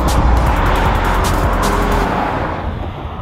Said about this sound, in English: It might seem a bit strange to take an SUV for a spirited jaunt on a curvy stretch of tarmac